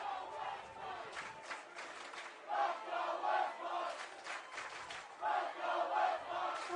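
Westmont fans in a crowd at a high school baseball championship game cheering and yelling loudly, the roar rising and falling in surges, with a faint voice underneath.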